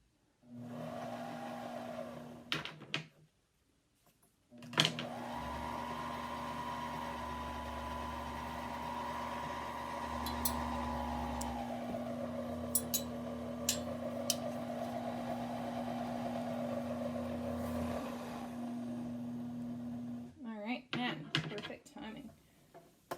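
A sewing machine whirs steadily while winding a bobbin, a continuous motor hum lasting over fifteen seconds, bracketed by brief handling clicks before and after.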